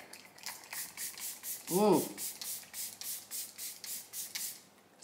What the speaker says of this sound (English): Simply shake the bottle to activate the shimmer particles and spritz your face and decolletage for a radiant day and night.